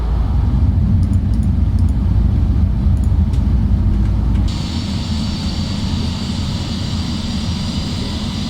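A Ryanair Boeing 737 in the Prepar3D flight simulator, on crosswind approach to land, extends its landing gear. A loud, steady cabin engine roar changes partway through to a rougher, wind-like rumble with added hiss.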